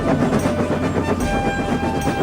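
A steam train hauls its coaches along the rails with a steady, continuous rumble and rhythmic clatter, loud and close and running without a break, with no speech.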